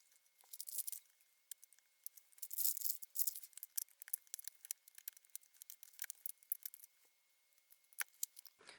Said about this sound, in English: So I want to just go ahead and unscrew the backing here.